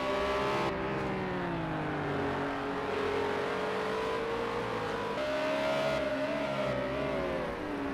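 Race car engines at Mazda Raceway Laguna Seca in a racing video game, R.S 01 Trophy cars whining steadily at high revs with rising and falling pitch through gear changes, continuous and alone.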